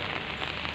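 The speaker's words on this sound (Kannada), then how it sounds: "ಒಂದು ವೀಕ್ ಆಯಿತು ತುಂಬಾ ಮಳೆ ಬರ್ತಾಯಿದೆ," Heavy, continuous rain falling steadily in Hubli, a dense even hiss with no gaps and no voices.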